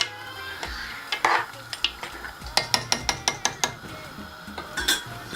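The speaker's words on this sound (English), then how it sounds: "Let me just stir it together to get inside each other so that they can boil properly." Ofe onugbu soup stirred in a pot, a rapid series of clinking spoon strikes against the pot rim with soft bubbling underneath, close and fairly loud.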